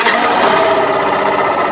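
A Yamaha 125 motorcycle engine running steadily, a loud, close, fast buzzing drone with an even rapid pulse and no pauses.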